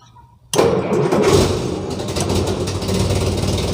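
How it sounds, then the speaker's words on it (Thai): A Vietnam War-era military jeep is started with the ignition key: after a brief quiet moment the engine catches abruptly and settles into a loud, steady, rough idle close by. "อันนี้คือสตาร์ทแบบแรกสตาร์ทโดยใช้สวิตช์กุญแจครับ"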